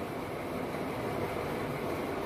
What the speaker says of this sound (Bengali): গঙ্গার তলায় মেট্রো চালু হয়েছে অনেক দিন